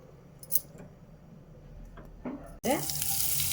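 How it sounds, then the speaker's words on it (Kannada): Peanut oil poured into a pan on a stove, a soft pour ending in a sudden loud, steady sizzle that continues to the end. "ಈಗ ನಾನು ಸ್ಟವ್ ಆನ್ ಮಾಡಿಬಿಟ್ಟು ಒಂದು 60 ml ಅಷ್ಟು ಆಯಿಲನ್ನು ಹಾಕ್ಕೊಳ್ತಾ ಇದ್ದೀನಿ, ಕಡಲೆಕಾಯಿ ಎಣ್ಣೆ"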